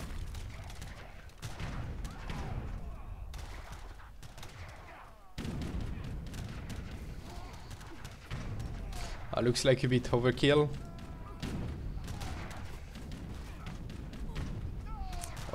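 Light cannons fire in a real-time strategy battle in Age of Empires III, with overlapping booms and gunfire thuds mixed into busy game sounds while a commentator talks throughout.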